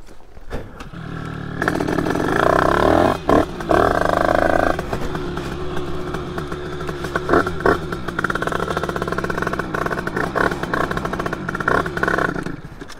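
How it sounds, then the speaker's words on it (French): A 50cc motorcycle tuned to about 30 hp with a half-working, very stiff clutch sputters to life close by, then runs with a raspy, uneven two-stroke buzz and blips of throttle over about thirteen seconds. "On va démarrer la moto."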